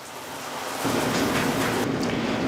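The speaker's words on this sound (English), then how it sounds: "Now at this point, we've run the shower for a while." Shower water running steadily and spraying onto a glass shower door, a broad continuous hiss that swells slightly louder after the first second and holds at a close, even level with no talk.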